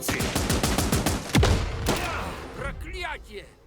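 A machine gun rattles out a rapid, evenly spaced burst in the war game Last Train Home, ending in a heavy thump, before a voice speaks over quieter battlefield sounds.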